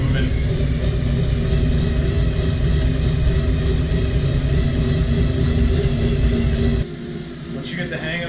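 Elite Arion Digital Smart B+ cycling rollers spin under a rider with a loud, steady whirring rumble that holds for most of the clip, then drops to a softer spin near the end.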